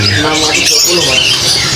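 A cucak kucing songbird at a bird market calls with bright squawking chirps, close and loud, mixed with people talking.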